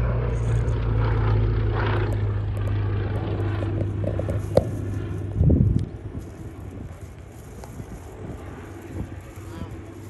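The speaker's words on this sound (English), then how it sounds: "That plane came out of nowhere." Fixed-wing aircraft passing during a Friday practice show at the Aero Gatineau-Ottawa airshow, a steady broad engine drone with wind noise and a brief louder swell midway, with people talking over it.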